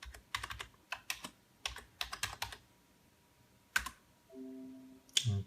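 A password is typed on a computer keyboard in quick bursts of crisp, close keystrokes separated by short pauses, followed by a faint tonal beep near the end; no speech.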